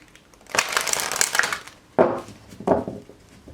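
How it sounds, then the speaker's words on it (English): A tarot card deck is shuffled close by in two or three quick riffling bursts, a long crackling run of cards followed by two shorter snaps, with no talking. "One more shuffle"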